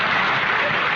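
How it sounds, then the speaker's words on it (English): A radio studio audience breaks into applause, a full, even burst of clapping from many hands that fills the brief moment without any voices. "Hey, you can get applauded for anything on the radio."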